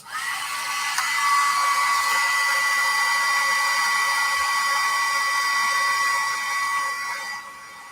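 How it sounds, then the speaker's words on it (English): A craft heat tool drying paint on mixed media coins blows steadily with a loud, high, whining hum for about seven seconds, then cuts off near the end. "You can use your heat tool."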